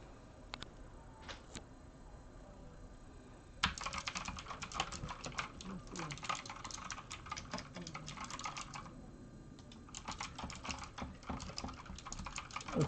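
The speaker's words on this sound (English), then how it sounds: "I think it's a real mechanical keyboard." Keys clack on a Redragon K557 RGB backlit mechanical gaming keyboard with blue switches. A few sparse clicky presses lead into rapid, continuous typing that sounds close and loud.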